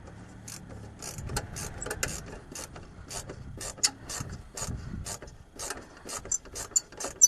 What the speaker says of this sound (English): When the last one is in, you can tighten down the screw.